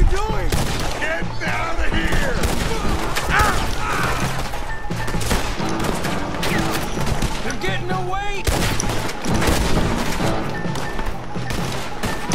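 Rapid gunfire from Red Dead Redemption 2, loud dense volleys of shots and crashing impacts packed close together throughout, with a game soundtrack beneath.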